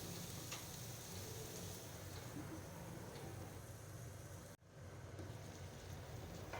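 Potatoes and bottle gourd frying in a covered pan for a catfish curry, giving a steady, faint sizzle and crackle throughout with a brief dip near the end, and no talk.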